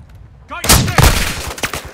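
Bursts of gunfire in a multiplayer shooter set in Taraq, loud sharp shots clustering after a quieter start, with a game voice calling out in between.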